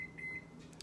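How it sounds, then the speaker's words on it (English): A microwave oven running at low power, a steady quiet hum with a couple of faint high beeps near the start and a soft click toward the end. "this is the only way I'm gonna learn how to use my microwave oven"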